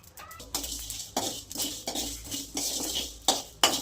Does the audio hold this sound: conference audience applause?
no